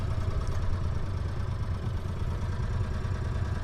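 An old Oliver tractor built by David Brown and sold in the United States, its engine idling with a steady low rumble and mechanical clatter, close and continuous with no talk.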